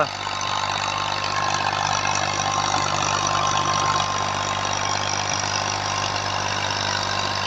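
A 2000-model Massey 240 tractor engine idles steadily at close range, a continuous low mechanical drone with a rough, knocking texture and no voices.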